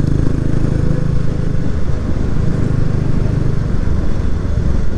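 Kawasaki 250TR motorcycle riding along Route 39 in Hokkaido, its engine a loud, steady drone throughout with constant road and wind rumble close by.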